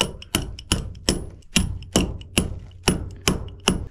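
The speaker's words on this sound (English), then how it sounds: "Now we're gonna have to hit this thing with a hammer" Repeated sharp metallic hammer strikes on a battery terminal connector of a Ford 6.9 IDI diesel, about ten blows in steady rhythm, loud and close with ringing decay after each hit.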